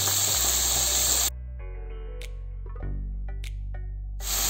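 Onions fry in a pan for Thirukkai fish puttu, giving a loud, steady sizzling hiss that drops away for a few seconds into faint crackles and pops, then the sizzle surges back at the end.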